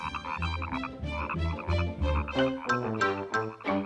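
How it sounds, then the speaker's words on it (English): A cartoon frog croaks over and over in a steady run of loud, close, throaty calls, with no talking over them. "Wherever you find frogs, you're sure to find water."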